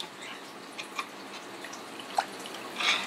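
Whey draining from curds through a cloth-lined colander while cheese is made at home: soft, close drips and trickles with a few distinct plops, moderately quiet, with no talking.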